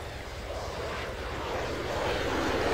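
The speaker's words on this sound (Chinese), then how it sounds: "这里 AF 的飞机其实也是在找我们的" An aircraft flies overhead in the military sandbox game Arma 3, its steady engine roar building slightly louder as it passes, with no speech over it.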